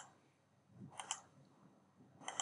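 Two quiet pairs of computer mouse clicks in a quiet room, separated by about a second, crisp and close.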